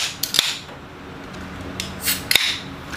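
A beer being opened during a casual meal, with two sharp, close cracks spaced about two seconds apart, each trailed by a short fizzy hiss, over a quiet background with no talking.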